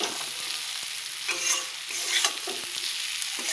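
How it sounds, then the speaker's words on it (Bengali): Cumin and coriander powder spices frying in a pan for a rohu fish curry with potato and green banana, a steady close hiss of sizzling oil with occasional scrapes of stirring, no talk. "তো দেখো সব মশলা ভাজা হয়ে গেল।"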